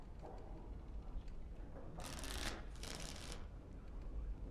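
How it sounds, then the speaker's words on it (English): Two short bursts of playing cards riffling and shuffling, each lasting about half a second, in the card game of the video game Dragon Age Origins, heard over a low, steady background hum. "Before we start, the cards must be shuffled."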